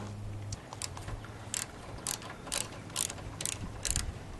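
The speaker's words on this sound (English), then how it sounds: "now let's grab our socket" A socket wrench ratchets while a carburetor is removed from a Ranch King lawn mower, giving about eight short, crisp clicking bursts in a fairly steady rhythm, close and faint, with no talk.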